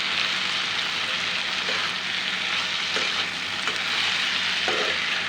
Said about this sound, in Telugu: నేను బెండకాయలో కొంచెం పెరుగు వేసుకుంటున్నాను